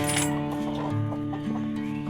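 Chickens cluck and cackle close by as a small backyard flock is released, a steady layered chorus of overlapping calls with no talking.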